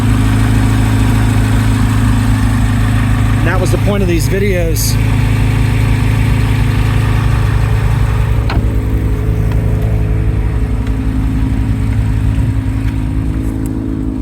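A Chevrolet Corvette C8 Z06 idles during warm-up with a steady low rumble, close and constant under someone talking, with a brief higher whine partway through.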